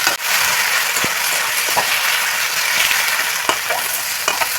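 Ginger garlic paste fries in hot oil with browned onion, green chilli and chopped tomato, giving a loud, steady sizzle close by with a few scraping stirs on top.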